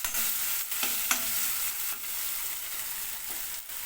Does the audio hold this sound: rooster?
no